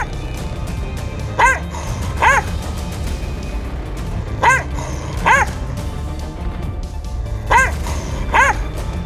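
A stray dog on a village street gives six sharp barks in pairs, evenly spaced and fairly close, over a low rumbling background.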